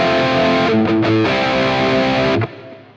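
Electric guitar through a chorus pedal on a Quad Cortex, a sustained distorted chord with a short rearticulation, loud and alone, then cut off and fading out.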